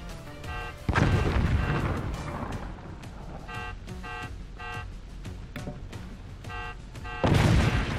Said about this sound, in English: Google Blazes is shooting at us.